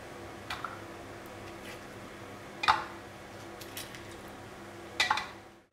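A metal spoon scrapes into soft avocado flesh in two or three brief, close scooping clicks spaced a few seconds apart, over quiet room hum.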